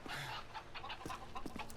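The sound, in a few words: chickens clucking in video game map Seatown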